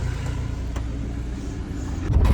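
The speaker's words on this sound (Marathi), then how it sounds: "अरे मोठी गाडी आली." A big heavy vehicle passes close on a road to Goa with a steady low engine rumble that swells louder toward the end, heard from inside a crowded car.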